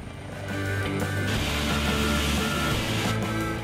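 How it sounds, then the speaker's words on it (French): A Eurocopter EC135 gendarmerie helicopter maneuvering over a campus, giving a steady, loud rotor and turbine roar that swells after the first half second and holds continuously, with some broadband wind-like rush. "les forces de gendarmerie ont effectué quelques manœuvres au-dessus du campus avant de poser leur hélicoptère EC-135"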